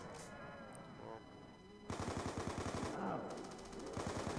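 Automatic gunfire in the Call of Duty Mob of the Dead zombies prison map: rapid bursts of close shots, with a pause and then another stream of fire, under game ambience and faint talk.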